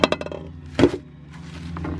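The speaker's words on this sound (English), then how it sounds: "Lids for my pots, glass lids." A glass pot lid from an RV teardrop trailer kitchen clinks sharply a few times near the start, then gives one louder clatter, followed by faint ringing and quiet background.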